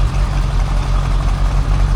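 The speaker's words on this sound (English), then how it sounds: "we see a Atkinson, and it's got a Gardner 150 diesel engine" An Atkinson lorry with a Gardner 150 diesel engine idles close by at a steam rally, giving a loud, steady low diesel rumble with no talk.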